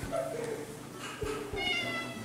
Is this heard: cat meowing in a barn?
yes